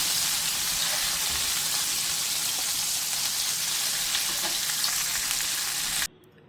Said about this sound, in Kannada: ಈಗ ಇದು ಫ್ರೈ ಆಗಿದೆ ಚೆನ್ನಾಗಿ.